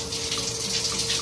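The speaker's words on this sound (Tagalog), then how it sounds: "Tingnan natin kung may cold and hot." Water from a hotel room shower at Meridian by Avenir in Cebu City runs in a steady, close hiss, with no one talking.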